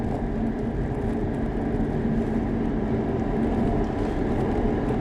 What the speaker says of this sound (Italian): l'altro difetto di questa A4 secondo me è proprio il rumore del motore che entra tanto, soprattutto in fase di accelerazione